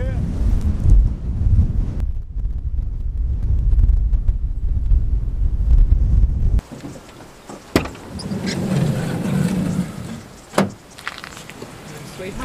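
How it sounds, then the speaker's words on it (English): Strong gusting wind at a beach near a lighthouse in Australia's South West, roaring as heavy buffeting against the microphone before easing into lighter gusts, with a voice speaking over it. "It's so windy!"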